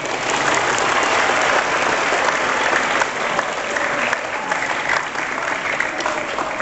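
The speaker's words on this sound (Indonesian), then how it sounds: "Tepuk tangan dulu." Sustained applause from a crowd at an Islamic religious gathering, steady clapping filling the whole stretch without letting up.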